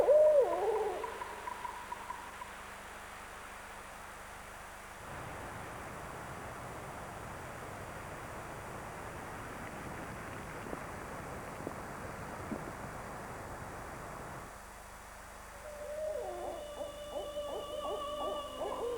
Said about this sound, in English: the haunt of the barred owl